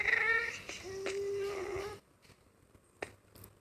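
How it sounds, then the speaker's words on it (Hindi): Eerie crying of a baby-like monster in a video game, a wavering wail that stops abruptly, followed by quiet game sounds and a few faint clicks. "और जो बच्चे के रोने की आवाज़ है ना, इतनी डरावनी है।"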